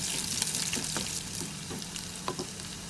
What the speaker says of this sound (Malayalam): ഇനി ഇതിലോട്ട് നമുക്ക് രണ്ട് ടേബിൾ സ്പൂൺ ചെറിയ ഉള്ളി ചോപ്പ് ചെയ്ത് ചേർക്കാം ഇത് ലൈറ്റ് ബ്രൗൺ നിറമാകുന്നത് വരെ ഇളക്കി കൊടുക്കാം